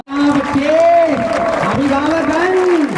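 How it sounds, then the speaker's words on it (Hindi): Parents and guests at the inauguration ceremony of The Grand Public School applaud in a steady, moderately loud wash of clapping, while someone speaks clearly over it through a loudspeaker. "तालियां बजती रहनी चाहिए।"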